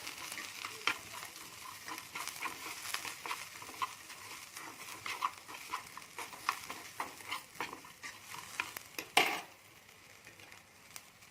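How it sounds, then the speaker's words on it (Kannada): Cinnamon, cloves, poppy seeds and pepper frying with onion and garlic for a military-hotel-style mutton curry, giving a steady crackling sizzle with repeated scraping stirs and a sharper clatter near the end. "ಇವಾಗ ಚಕ್ಕೆ ಲವಂಗ ಗಸಗಸೆ ಮೆಣಸು ಸೇರಿಸ್ತಾ ಇದ್ದೀನಿ ಕಡಿಮೆ ಅವಧಿಯಲ್ಲಿ ಇಟ್ಕೊಂಡು ಉರಿಬೇಕಿದೆ"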